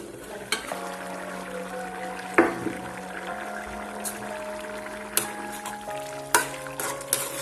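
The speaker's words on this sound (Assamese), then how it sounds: "এতিয়া ভালদৰে উতল অহালৈকে এইখিনি ঢাকি দিম।" Chana dal and potatoes boil in a covered pot, giving a low, steady bubbling hum with occasional sharp clicks and knocks from the lid and pot.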